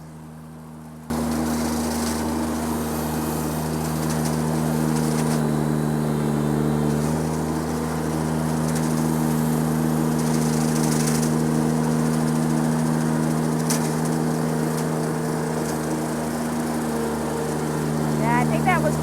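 A sickle mower on a stick trimming trail vegetation starts after a second of quiet, then runs as a steady, loud engine drone with a constant tonal hum throughout, with no break.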